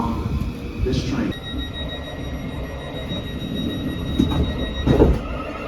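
A passenger train rolls along the rails near Blackheath in London: steady low rumble and rattle with faint wheel squeal and a couple of louder clunks, heard close from on board.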